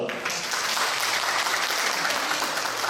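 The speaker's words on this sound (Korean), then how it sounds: "큰 박수 부탁드리겠습니다" Lecture audience applauding at the close of a talk on foreign political parties in a legislative training course, steady dense clapping filling the room from start to finish with no voices.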